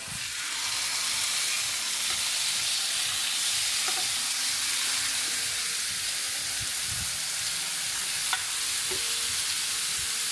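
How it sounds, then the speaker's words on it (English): Skirt steak sizzling in a hot pan for taco night, a continuous bright frying hiss that holds steady throughout with faint clicks and small pops, close and alone with no talking. "I'm gonna cook the skirt steak"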